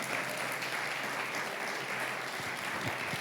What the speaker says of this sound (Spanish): Vamos, aplauda fuerte al Señor.